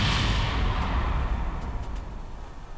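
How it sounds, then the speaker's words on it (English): Rocket booster separating in Kerbal Space Program, a loud decaying roar and rumble that fades gradually over a few seconds, close and alone without speech. "Oh, there goes our rocket booster."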